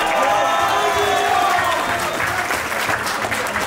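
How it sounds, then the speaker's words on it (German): Loud, sustained applause with some cheering from the crowd at a rap contest, a dense even roar of clapping without a break. "Riesen Applaus für Fokus."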